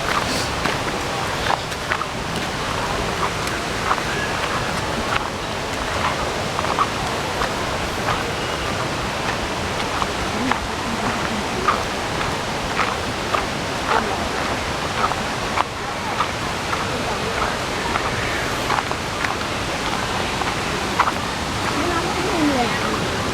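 Nang Rong waterfall in Nakhon Nayok rushes in a steady broadband roar, close and constant, with people talking over it and occasional footsteps on the trail.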